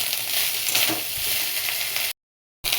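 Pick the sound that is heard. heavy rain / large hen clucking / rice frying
rice frying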